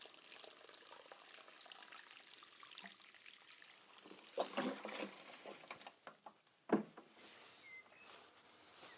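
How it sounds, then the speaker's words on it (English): Water pours onto compost in a garden raised bed, giving a soft continuous trickle and splash with irregular louder gurgles and spatters as it soaks in, quiet and close, with no voices. "give it a proper soaking, at least 7 to 10 seconds of water"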